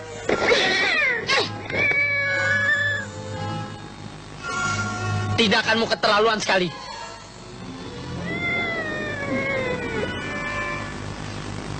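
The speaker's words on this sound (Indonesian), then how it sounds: "Kok hari ini kau begitu kejam memukul kucing?" A cat being hit lets out several loud, drawn-out meows and wails in bursts, mixed with people talking.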